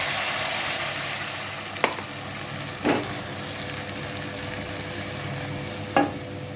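Fried whole spices (bay leaf, dried chilli, clove, cinnamon, cardamom) are stirred into a pot for vegetable biryani: a steady close sizzle broken by three sharp clattering stirs.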